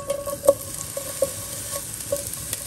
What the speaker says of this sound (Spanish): En esta misma cazuela donde teníamos la pasta voy a poner un poquito de aceite y unos pedazos de cebolla.